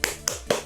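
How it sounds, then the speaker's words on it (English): Three sharp hand claps spaced evenly about a quarter second apart, close and crisp in a quiet indoor space. "no hands, I'm clapping."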